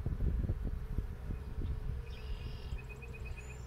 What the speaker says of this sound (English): I'm trying not to squish any bees in the process.